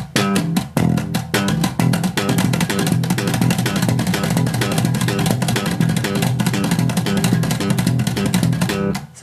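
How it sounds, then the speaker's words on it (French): Bass guitar played with a percussive technique, strings muted across three strings and struck in a rapid, busy rhythm; dense clicky slaps over a low thumping groove, loud and continuous for about nine seconds. "Ça donne un effet percussif."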